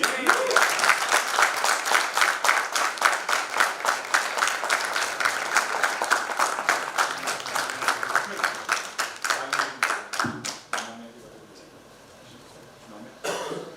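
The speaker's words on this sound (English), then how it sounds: "Round of applause." Audience applause at an HR conclave, a dense crowd of steady clapping with a few coughs that carries on for about ten seconds, then cuts off abruptly, leaving a quiet room and one brief rustle near the end.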